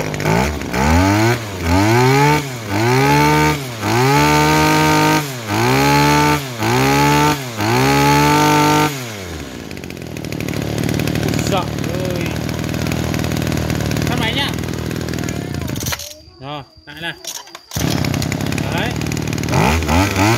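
A used Japanese grass cutter engine head, fitted with a fuel tank for a test run, revs in a rapid series of sharp bursts, then drops to a rough steady idle with a brief cut-out near the end.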